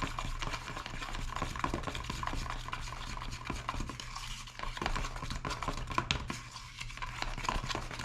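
Milk paint thinned with a little water is stirred steadily in a container, a continuous close scraping and sloshing with rapid irregular clicks of the stirrer against the sides and no talking.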